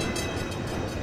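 Train passing in the video game Necromunda: Hired Gun, a brief dense roaring rumble with faint rhythmic rattling, loud and steady over about a second.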